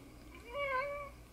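A pet cat gives a single soft, rising meow, faint and brief against a quiet room.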